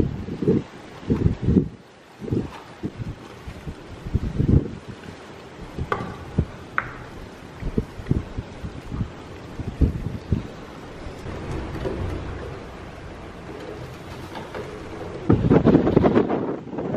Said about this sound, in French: T'es prêt pour affronter le vent?